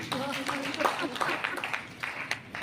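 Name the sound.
loud applause for the speaker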